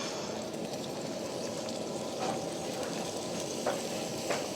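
Small onions fry in a hot pan over high heat, giving a steady, close crackling sizzle with a few small pops, and nobody speaking.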